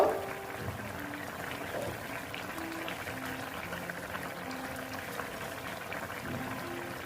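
A pot of fish curry with potato and cauliflower bubbles at a low simmer, a soft continuous gurgle with small pops, faint and steady throughout.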